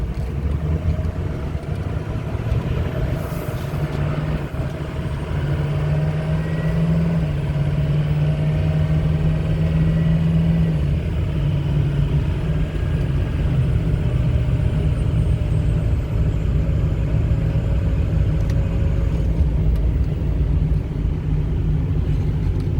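A 2006 Ford F350 Lariat 4wd pickup truck accelerates on the road, its engine a steady, loud, continuous rumble with wind noise heard from inside the cab, and no talking.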